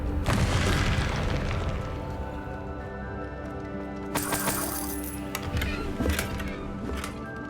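Confringo blasting spell bursts in Hogwarts Legacy, a few booming blasts with crackling debris over a rumbling background, loud and close.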